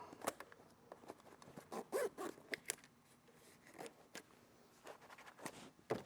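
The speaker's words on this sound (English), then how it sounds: "Zipper up." A few short, scratchy zipping bursts close by as a bag's zipper closes, with small clicks and rustles of fabric between them.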